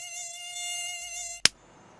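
A tiger mosquito buzzes in a high, steady whine close by for about a second and a half, then a sharp sudden slap cuts it off, leaving quiet.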